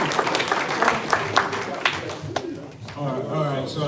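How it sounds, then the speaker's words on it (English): Audience applause for the Officers Council at a Masharah Yasharahla meeting, scattered claps fading out over a few seconds while a voice starts talking beneath and after them. "give another round of applause"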